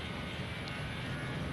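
A steady, even engine drone from an aircraft in Microsoft Flight Simulator X, with only one engine running on a Miami to Atlanta flight, fills the short stretch without pause and without speech.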